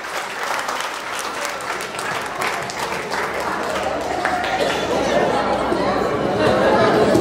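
Audience at a company anniversary celebration claps steadily, the applause swelling toward the end, mixed with crowd chatter and voices.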